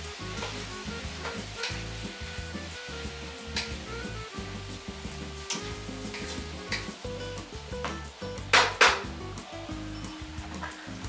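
Tomatoes and vegetables cooking down in a pan give off a continuous close sizzle, broken by repeated utensil taps and scrapes, with a couple of sharper clinks late on; no talking.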